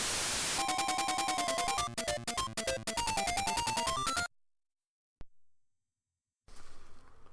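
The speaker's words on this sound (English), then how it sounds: "Could probably do without the searingly painful white noise after you finish each stage" Harsh, loud static-like noise fills the opening, overlaid with bleeping synthesized tones from the video game Let's Share as a stage ends, then drops to silence before a faint click and a hiss returning at the end.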